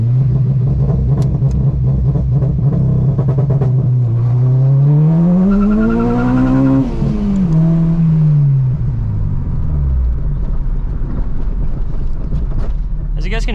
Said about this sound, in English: As you guys can hear, there's still a little bit of wheel spin